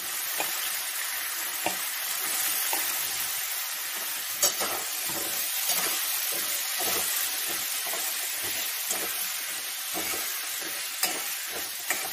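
Potatoes and onions fry together in a pan for a Bengali snail curry, giving a dense, steady sizzle with repeated scraping and stirring knocks, close by and with no voices.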